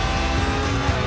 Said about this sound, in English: The trick with drifting is to not actually spin, but to almost spin for as long as possible.